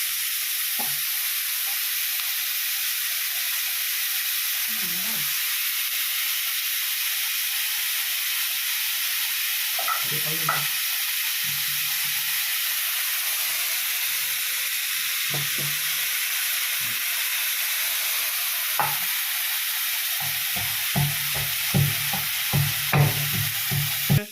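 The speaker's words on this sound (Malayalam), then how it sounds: "ഞാൻ ചെറുതായിട്ട് അരിഞ്ഞിരിക്കുന്നത് കൊണ്ട് നമുക്ക് പെട്ടെന്ന് റെഡിയായി വരും അത് വഴണ്ട് വഴണ്ട് വഴക്കണം" Finely chopped ingredients sautéing with salt in a pan produce a constant, bright sizzle and hiss, punctuated by scattered spoon clicks and scrapes of stirring, with no talking.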